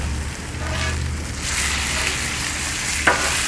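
Bacon sizzles steadily on a Blackstone griddle, a dense close frying hiss, while a drywall-style spatula scrapes and flips it, with one sharp metallic scrape near the end.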